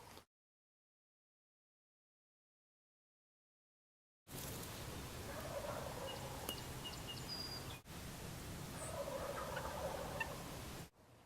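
Wild turkeys gobble from their roost in the southeastern woods, several distant gobbles rising out of steady outdoor hiss after a stretch of near silence.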